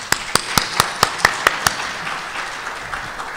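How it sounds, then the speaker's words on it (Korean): Applause greets a speaker at a Korean business association convention in Tokyo: a few sharp, evenly spaced claps ring out close by over softer crowd clapping, which thins to a faint patter. "큰 박수로 맞이해 주시길 바랍니다"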